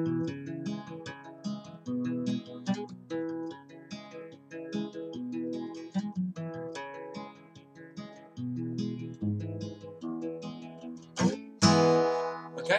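Guitar plays the chorus of a song as a steady strummed and picked progression with clear chord changes throughout, heard alone with no talking over it.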